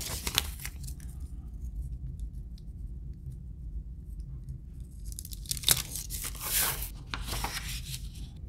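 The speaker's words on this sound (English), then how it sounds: "I'm going to get a piece of wax paper and a roll of painter's tape. I'm just going to apply that tape to both sides." Painter's tape is torn from the roll and pressed onto wax paper at a workbench, with a sharp ripping burst at the start, a long quiet stretch of faint handling, then several more crinkly tearing and smoothing sounds near the end.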